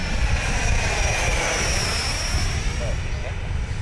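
A FlyFans J-20B RC model jet on its maiden flight passes overhead with a steady, loud whooshing whine that drifts slightly in pitch, heard continuously for a few seconds.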